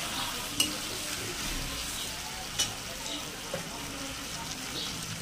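Spice masala frying in hot oil while being stirred, a steady close sizzle with a few sharp scrapes of the spoon against the pan, no voices.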